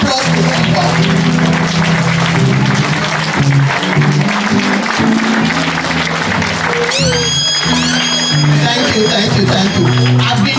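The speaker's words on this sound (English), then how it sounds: "all of us just stand up and give a big hand of applause to Umbom" Applause for a standing ovation at a memorial celebration of Billy Mukoi's life, with loud clapping mixed with music and voices, and a sweeping tonal flourish rising midway.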